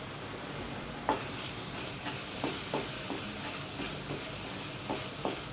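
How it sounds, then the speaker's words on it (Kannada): Chilli powder, garam masala and coriander powder roast in a pan over a low flame, with a soft continuous sizzle and occasional scraping stir strokes, close and fairly quiet. "ಲೋ ಫ್ಲೇಮಲ್ಲೇ 1 ನಿಮಿಷ ಹುರ್ಕೊಳ್ಳೋಣ"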